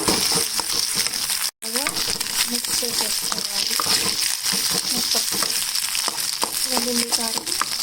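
Eggs being stirred in a hot pan with garlic chili powder, steady close sizzling and frying with scraping spatula strokes throughout, one brief cut of silence partway, and a voice speaking over the cooking.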